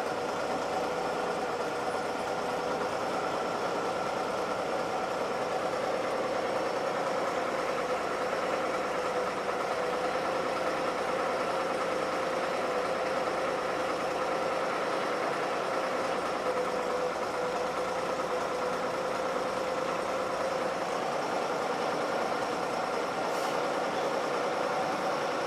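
An engine idles steadily after a dead cold start, a continuous even hum with a faint whine riding on top, fairly quiet and unchanging, with no voices.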